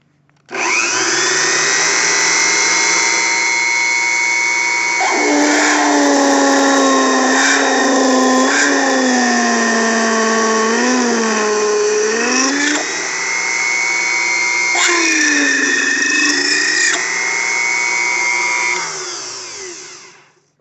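A tiny Unimat SL1000 lathe drills steel to a quarter inch, running steadily with a whining motor and shifting tonal pitch for about twenty seconds, loud and close, slowing at the end.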